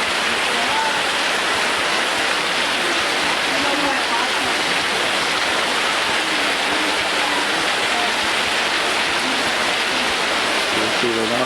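Rainwater pours off a small roof cover in Guatemala, a loud, continuous broadband rush that holds steady from start to finish, with possible voices faintly underneath.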